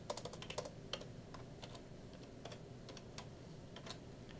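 A computer keyboard is typed on quietly at close range in a short burst of keystrokes that tapers into sparser clicks, as when entering a password.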